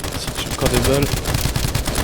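Rapid gunfire from the video game Escape from Duckov, a loud dense rattle of shots running through the whole stretch, with a short voiced sound in the middle.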